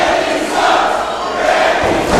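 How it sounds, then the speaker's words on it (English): A wrestling crowd at a cage match chants in a steady, roaring wash of voices, loud and continuous, filling the arena with no clear individual words. "The crowd is chanting, Danny sucks."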